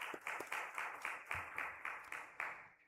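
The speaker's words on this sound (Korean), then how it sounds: "우리 격려의 박수 한번 부탁드리겠습니다" Church congregation clapping in encouragement during Sunday service announcements, a fairly quiet, somewhat sparse round of applause with distinct claps standing out before it fades away at the end.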